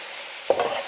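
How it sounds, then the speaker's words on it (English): Chopped onion hits a hot frying pan while stuffed peppers are being made, giving a short, sharp sizzle after a quiet start. "When you put something in the pan, you want to hear that sizzle."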